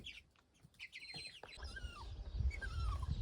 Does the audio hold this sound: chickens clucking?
yes